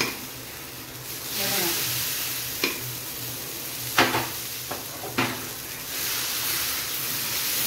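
Masala dosa batter sizzles on a hot oiled griddle, a steady broad hiss with a few sharp scraping clicks as it is spread, close and fairly loud with no talk.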